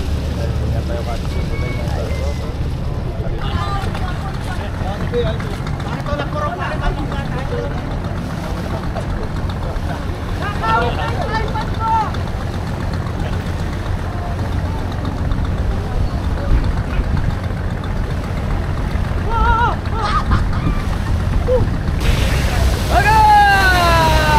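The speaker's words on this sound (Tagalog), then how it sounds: "yan po yung bangka natin, umikot na, and pumihit na siya." A boat engine drones low and steady on the water for a long stretch during a river parade as the boat turns, with wind and splashing, and voices talk intermittently over it.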